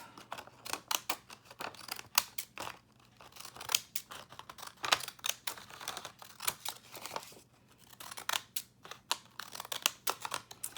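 Crisp, close scissor snips cut through paper in quick irregular bursts, pausing briefly before the cutting resumes. No voices.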